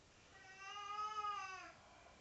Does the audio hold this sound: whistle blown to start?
no